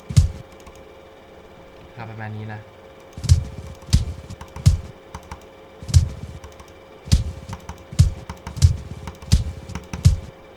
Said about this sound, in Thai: เสียงต่อยนะครับ ลองดูกัน